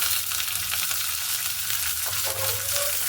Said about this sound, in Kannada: ಸಾಸಿವೆ ಅದಕ್ಕೆ 1 ಸ್ಪೂನು ಕಡಲೆಬೇಳೆ, 1 ಸ್ಪೂನು ಉದ್ದಿನಬೇಳೆ, ಸ್ವಲ್ಪ ಕರಿಬೇವು